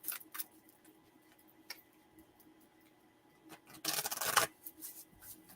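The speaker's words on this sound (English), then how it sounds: "I'm just sitting here shuffling." Tarot cards are shuffled in scattered soft taps and clicks, then a brief louder riffle burst near the end, close by and with no talking.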